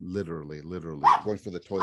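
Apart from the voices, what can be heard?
Pomeranian mix dog barking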